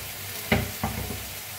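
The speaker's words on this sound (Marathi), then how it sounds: "आता मिक्स करून मटकीला भाजून घेऊया" Moth beans (matki) roasting in oil in a pan while being stirred, a soft steady sizzle with two brief scraping stirs of the spoon, close and quiet.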